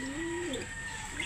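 A single soft bird coo sounds briefly inside a pigeon loft that also houses lovebirds, a faint tonal call close by over light background hum.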